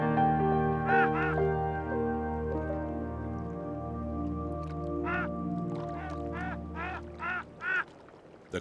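Wild ducks quack in a marsh during spring courtship season, short nasal calls coming in a few separate bursts, then a quick cluster near the end, over a steady low hum in the background.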